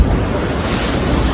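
Ocean surf surges loudly into Thunder Hole on the rocky Maine coast, a continuous roaring wash of churning water mixed with heavy wind buffeting close to the microphone.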